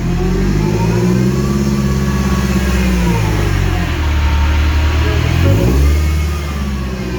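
A Mercedes SLK 230 Kompressor drift car in first gear with a touch of handbrake, engine revved hard up to the rev limiter: loud, close, sustained roaring with rising and bouncing pitch, alone without talk.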